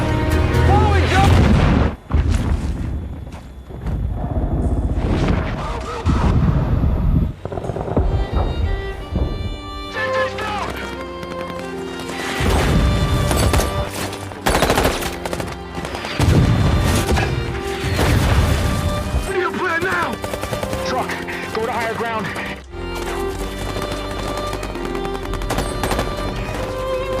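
Heavy gunfight from the film The Covenant, sustained automatic fire and booming blasts with crashes, loud and dense throughout, dramatic music and occasional voices mixed underneath.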